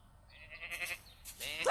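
A brief, wavering sheep bleat rises and then breaks off. It is fairly faint and ends with a short burst of a voice.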